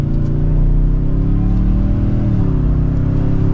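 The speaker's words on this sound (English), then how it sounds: "So if I slow down again, we'll pop it back into second gear in Eco mode." A 2024 Toyota Sequoia Platinum cruising in Eco mode, its engine a steady low hum whose pitch dips and settles as the transmission drops into second gear, smooth and unbroken with no talk.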